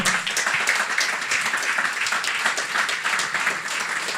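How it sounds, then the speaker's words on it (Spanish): An audience at a cultural-rights conference gives a loud round of applause. Dense, even clapping continues from start to finish with no voices over it. "vamos a exorcizar el momento de humor con un fuerte aplauso para Karina y todo el equipo."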